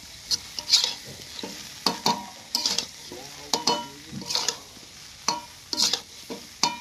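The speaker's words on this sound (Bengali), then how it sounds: "চলো এবার নাড়তে থাকো, দেখি।" Chire polao, flattened rice pilaf, is stirred in a pan with a spatula, repeated rhythmic scrapes and clinks roughly every half second over a light sizzle, close and clear with no talking.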